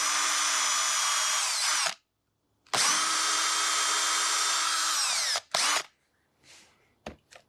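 A power drill with a long bit whines in two long bursts, drilling into wood, separated by a pause, followed by a brief third burst and a few faint clicks as it stops.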